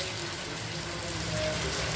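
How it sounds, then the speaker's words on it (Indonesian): Steady rain falls outdoors while a young child plays in it, a soft, even hiss of drops on surfaces that continues throughout at a fairly low level. "Adik main hujan."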